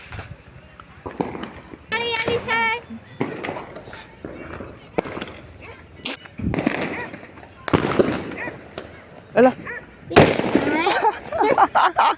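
Firecrackers burst at a village Diwali celebration, sharp bangs coming in clusters between excited voices and children chattering nearby.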